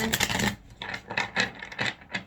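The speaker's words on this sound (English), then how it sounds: "I'm going to do one more shuffle here for you" Tarot cards shuffled by hand: a run of quick papery riffles and soft slaps in bursts, close and moderately loud, with no talking.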